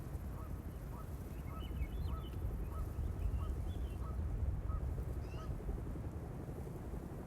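Birds in the video game Hell Is Us give repeated short honking calls over a steady outdoor ambience, moderately distant, with a few scattered chirps and no talking.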